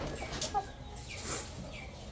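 A rooster gives a few faint, soft clucks at a distance, with low background noise and no talking.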